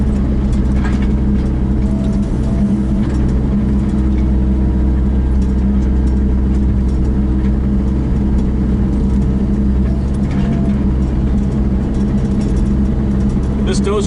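Kubota KX121-3 mini excavator grading soil with its angled dozer blade, a steady loud diesel engine drone running throughout with slight load changes, and someone talking over it.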